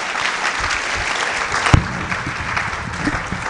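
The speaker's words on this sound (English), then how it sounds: "Let's clap for him." An audience at a university freshers' orientation event applauds, a sustained dense clapping from a crowd that fills the room at a steady level, with one sharp louder clap standing out midway.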